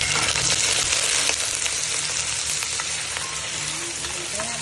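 Mushrooms fry in butter in a pan, a continuous dense crackling sizzle at close range with small pops throughout and no voices.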